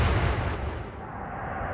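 Naval artillery fire in the warship game Atlantic Fleet, a heavy low rumbling boom with a sustained roar that fills the short moment at steady loudness, with no talk.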